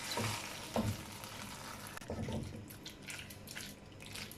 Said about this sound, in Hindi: जो हमने मैक्रोनी छानी हुई थी अच्छे तरीके से वो इसमें शामिल करेंगे। इसको अच्छे तरीके से मिक्स कर लेंगे।